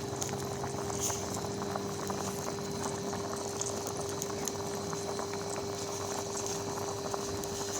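A hot pot of tom yum soup with giant catfish head bubbles at a steady rolling boil, with a constant low hiss and a soft, dense crackle of bursting bubbles throughout.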